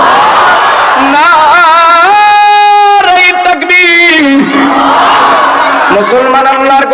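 A huge crowd of thousands at an open-air Islamic sermon gathering in Kurigram roars the takbir in unison, with several loud sustained shouts that rise and fall in long drawn-out cries.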